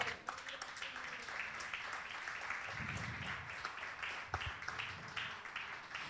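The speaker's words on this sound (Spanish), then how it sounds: "Yo de usted le daría un aplauso al Señor." Church congregation clapping in praise to the Lord during a Spanish-language sermon, a sustained ragged applause with a few sharper claps and some voices mixed in.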